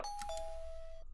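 A doorbell chime from the video game Phoenix Wright: Ace Attorney rings out alone, with two quick bright tones followed by a long sustained ring that fades out after about a second.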